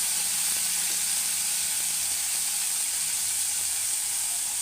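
Boiled bitter gourd frying in oil with sambar masala gives a steady, even sizzle and hiss that runs unbroken and close for the whole stretch, with no voices over it.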